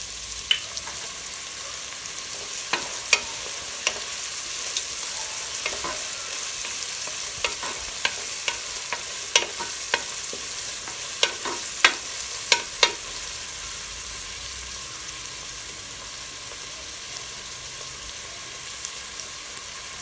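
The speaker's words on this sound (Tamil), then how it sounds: "வெங்காயம் கொஞ்சம் வதங்கட்டும் வெங்காயத்தோட இப்போ நம்ம கட் பண்ணி வச்சுக்கூட பச்சை மிளகாய் இதில் சேர்த்துடலாம்" Onions and green chilies sautéing in oil for mutton biryani, a steady close sizzle with scattered sharp clicks and scrapes of a spatula against the pan.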